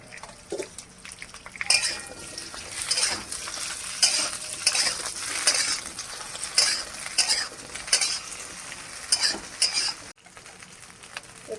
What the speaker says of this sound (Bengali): এই যে ঢ্যাঁড়সটাকে হলুদ আর নুন দিয়ে হালকা করে ভেজে নেব